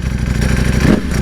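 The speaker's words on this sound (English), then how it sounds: "That dry clutch." A 2020 Ducati Panigale V4R with a race Akrapovic exhaust idles low with a rapid mechanical clatter from its dry clutch, loud and close, pulsing evenly under a rough engine rumble.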